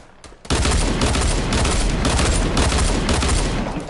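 Dual pistols firing in a shooter video game: a rapid, dense burst of loud, close shots that kicks in suddenly after a short quieter lead-in and keeps going without a break.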